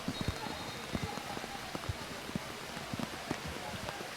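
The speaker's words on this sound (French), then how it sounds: "la pluie s'intensifie" Rain at a football stadium during an FC OSA versus Bouake FC match, heard as faint, scattered patters and drops over a diffuse background wash, distant and low in level.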